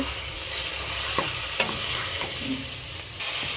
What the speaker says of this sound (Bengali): আমি এর মধ্যে মটন দিয়ে দেব। মটন দিয়ে কষে নেব।